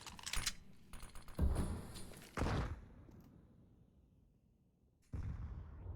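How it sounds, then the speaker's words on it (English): Grenade blasts and gunfire in Counter-Strike on the Ancient map during a professional match, a few sharp explosive bursts and clattering shots, fairly close, separated by quieter gaps, with no commentary over them. "Jazz Pimp catching a couple grenades"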